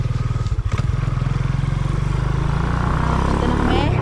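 A motorcycle engine idles loudly and close by in a steady fast thumping rhythm, with a clattering knock near the start and a few scraping sounds near the end, and no talking over it.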